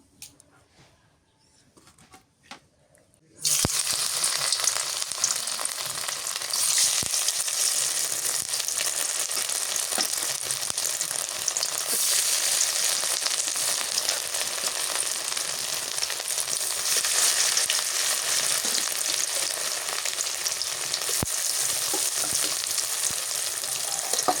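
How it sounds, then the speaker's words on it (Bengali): Radish pieces frying in hot oil for a radish and egg dish: after a few quiet seconds a loud, dense sizzle bursts in and holds steady and close for the rest of the clip, with no speech. "আমি সুন্দর করে পিস করে নিলাম, এখন তেলে ভেজে নেই।"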